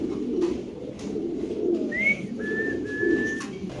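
Pigeons at a large fancy pigeon farm, including a black dragon pigeon, coo low and repeatedly in a steady rhythm, with a few thin, high whistled chirps rising over the cooing.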